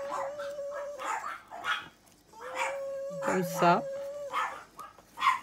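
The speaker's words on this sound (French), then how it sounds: "je vais voir ce que les chiens ils ont, qu'ils aboient comme ça" Dogs bark and yip intermittently in the background while a voice talks, the barks fairly distant and scattered across several seconds.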